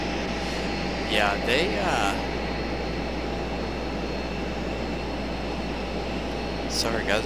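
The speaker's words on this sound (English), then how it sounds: "I hear them. I hear the Apaches again." Apache military helicopters drone overhead at night near an international airport, a steady low rumble with faint rotor throb under intermittent talk and chirps.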